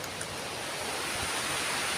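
A river flowing beside a hazelnut orchard in a Turkish village, heard as a steady, loud broadband rush of water with no pauses and no voices.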